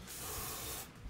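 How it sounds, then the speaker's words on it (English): A spray bottle misted onto someone's face, a soft steady hiss lasting about a second, close and fairly quiet, ending with a brief louder bump. "Why did you just spray your face?"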